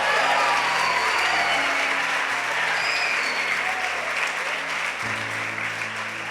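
Church congregation applauding in praise, a broad, continuous wash of clapping with a sustained low musical tone and hum underneath throughout.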